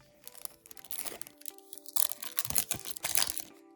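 Foil wrapper of a trading card booster pack crinkling and tearing open up close, a run of crisp crackles and crunches lasting a few seconds with no talking.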